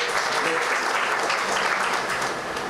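Audience applause at an event marking Human Rights World Environment Day, a dense, steady clapping from a crowd that holds evenly for a few seconds with no talk over it.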